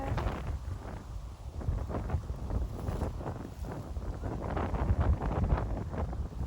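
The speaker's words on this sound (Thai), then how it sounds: "ลมหนาวเริ่มมา" Cold morning wind sweeps across open rice fields, buffeting the microphone with a low, rumbling, gusty roar that swells and eases over several seconds, with no voices present.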